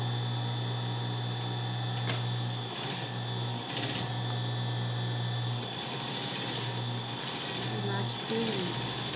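A sewing machine stitches fabric for a girls' ruffled shorts set, its steady motor hum running in short bursts with brief pauses, close, while someone talks over it.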